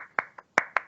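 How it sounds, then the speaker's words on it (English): Four sparse, polite hand claps in an irregular rhythm, close and crisp, with no talking. "I Give that a golf clap"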